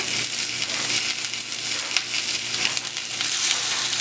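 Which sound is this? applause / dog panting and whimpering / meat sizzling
meat sizzling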